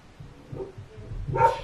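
Dog whimpering softly, then giving one short yip or bark near the end, fairly close but not loud, over a faint low hum with no talking.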